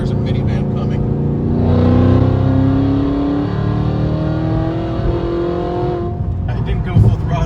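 Cadillac engine pulling under throttle while driving, a steady loud drone that rises in pitch as the car accelerates and downshifts, then falls away, with a voice talking over it toward the end.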